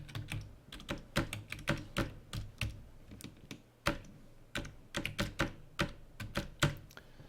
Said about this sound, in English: So I'm going to type in my Gmail address.